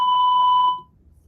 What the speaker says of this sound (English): say your name and what you're calling about after the beep